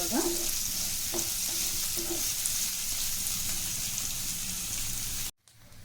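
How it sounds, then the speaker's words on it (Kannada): Soya chunks and onion fry in a hot pan with a steady, close sizzle, a few light stirring clinks early on, before the sound cuts off abruptly near the end. "ಚೆನ್ನಾಗಿ ಫ್ರೈ ಆಗಬೇಕು."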